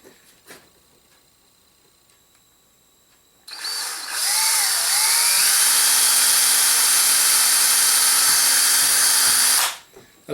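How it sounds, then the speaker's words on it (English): A power drill bores a pilot hole through the tip of a rocket nose cone, one sustained high whine lasting about six seconds after a quiet start, close and loud, then stopping abruptly. "we drill a small hole first and then we drill a bigger hole"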